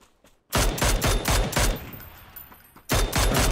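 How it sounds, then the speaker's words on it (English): Gunfire from the battle royale game PUBG on the Erangel map: loud rapid bursts of automatic shots, a dense volley up front, a quieter gap, then another heavy burst near the end. "I'm getting shot at from afar."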